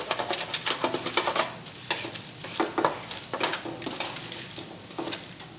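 Roasted cauliflower and apple tumble into a pan and get stirred while making vegan curried cauliflower soup, giving repeated close scraping, clattering strokes over a soft sizzle.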